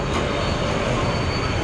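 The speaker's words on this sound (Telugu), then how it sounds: "బస్సు కదుతుంది, ఇంకో బస్సు వస్తుంది" A bus pulls away from a bus stop with a loud, close, continuous low engine rumble and broadband mechanical noise that stays steady throughout, with no talking.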